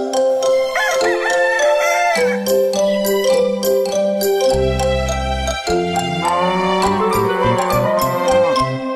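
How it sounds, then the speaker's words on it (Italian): A cheerful rooster crows cock-a-doodle-doo over a bright instrumental backing in a children's farm song, the call standing out clearly and loudly within the music. "Senti il gallo col suo chicchirichì, la più allegra sveglia che ci sia."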